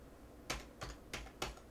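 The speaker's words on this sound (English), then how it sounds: "I'm going to click into the search box and type in my text" Keys tapped on a computer keyboard while entering text, four distinct clicks spaced about a third of a second apart, close and crisp against a quiet background.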